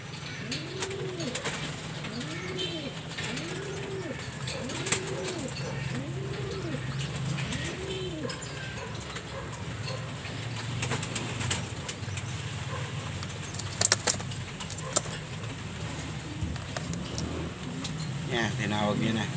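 Domestic pigeons coo in a series of low rolling calls near a coop, repeated about every second at first, with someone talking over them and occasional light bumps.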